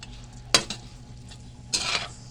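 Chicken being stirred in teriyaki sauce, with two short scraping strokes of a utensil against a pan over a faint sizzle, close and fairly quiet.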